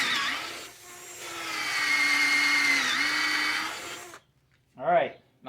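A 3/8 drill bores deep into a wooden post, its steady whining motor running continuously for about four seconds, dipping briefly early on, then stopping; a short voice follows.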